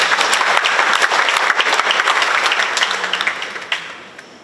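Audience at a Jakarta design interior competition presentation evaluation applauds, a dense steady wash of clapping that tapers off toward the end.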